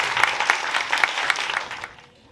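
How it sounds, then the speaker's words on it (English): A short burst of applause from a school assembly audience, moderately loud and fading out after about two seconds. "you can have a round of applause for everyone"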